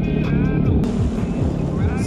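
A Sea-Doo Spark Trixx personal watercraft's engine fires up and runs close by, a loud, steady buzzing rumble with shifting pitch that rises and falls as the throttle changes.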